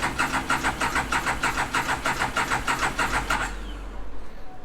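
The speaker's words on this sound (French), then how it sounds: "elle fait pas le même bruit qu'hier, j'ai l'impression, quand je démarre, j'ai l'impression." A Moto Guzzi Caponord 1000 ETV motorcycle engine cranking with a fast, rhythmic starter churn of about a dozen pulses, then catching and settling into a low rumble, close and moderately loud.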